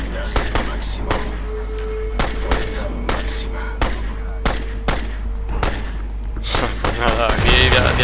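Rapid bursts of automatic gunfire in the first-person shooter Crysis, loud sharp shots repeating in uneven volleys throughout with game ambience underneath, busiest near the end.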